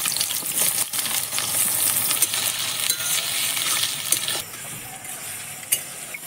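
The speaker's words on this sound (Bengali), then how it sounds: "পেঁয়াজ ভাজা ভাজা হয়ে গেছে" Chopped onions fry in a pan with whole dried red chillies and cumin seeds over a wood-fired clay stove, giving a steady, close, crackling sizzle with occasional stirring clinks and no talking.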